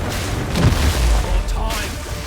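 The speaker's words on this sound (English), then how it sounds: "Now it's time for the explosive grenades." Explosive grenades going off in the video game Path of Exile 2, a pair of deep, heavy booms close together over a steady rumbling bed of game noise.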